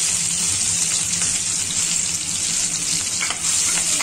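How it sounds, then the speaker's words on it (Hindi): Cloves, cinnamon and small cardamom roasting in a pan, a steady loud sizzle and crackle running throughout with faint stirring, no voices. "अच्छी तरह भून लेंगे।"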